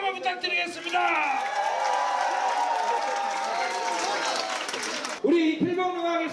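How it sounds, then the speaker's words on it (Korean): An outdoor festival crowd gives sustained applause before an Imsil Pilbong nongak farmers' music performance. Dense clapping fills several seconds while an announcer talks over it, and the applause fades as speech resumes. "박수 한번 부탁드리겠습니다"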